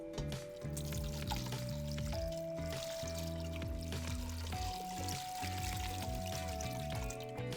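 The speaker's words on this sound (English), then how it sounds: "what we're going to do is fill this up with some room temperature water" Room temperature water pours steadily into a pot holding chicken, vegetables and a sachet of herbs, a continuous splashing stream running alone for several seconds over quiet background music.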